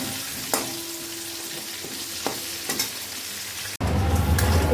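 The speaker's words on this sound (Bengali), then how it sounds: "আলু আর কোয়াশটাকে ভেজে নেব" Potato and squash frying in a pan, a steady close sizzle with occasional stirring clinks, then a sudden louder burst of frying partway through as more food hits the hot oil. No one speaks.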